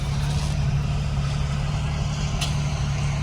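A Mahindra Roxor turbo diesel engine crawls in 4 low with a steady, loud, low-pitched drone that holds unbroken throughout.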